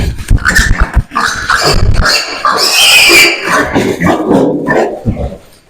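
Two-month-old piglets being weighed squeal and grunt loudly in bursts, sharp close cries and snorts mixed with people speaking nearby.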